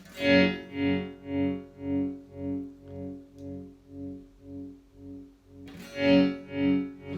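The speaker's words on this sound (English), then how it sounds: "let's speed that tremolo up a bit" Electric guitar through a Roger Mayer Voodoo Vibe pedal on a fast sine-wave tremolo, notes pulsing evenly, volume swelling and dipping in a regular rhythm, with a fresh strum partway through.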